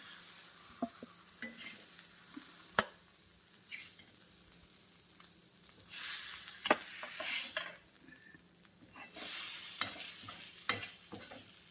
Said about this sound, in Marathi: अशा प्रकारे सर्व वडे मी फ्राय करून घेत आहे